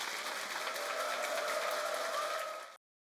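An audience at a large church sermon gathering in Uijeongbu claps together in a dense, even wash of applause for nearly three seconds, then it stops abruptly into silence.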